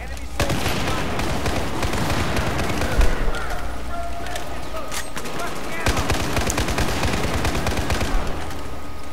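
Constant in-game gunfire and explosions fill a Battlefield 4 multiplayer match, with loud, dense bursts and a few heavier hits over a busy battle soundscape.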